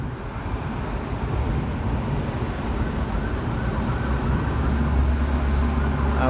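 Emergency vehicle sirens sound on a city street in Toronto's Greektown, a steady wailing held under constant traffic noise and road rumble.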